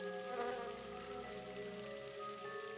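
Bees buzzing around a beehive in the fantasy adventure game Satinavs Ketten, a steady, even drone of insect wings with tonal hum, moderately faint and continuous, no voices.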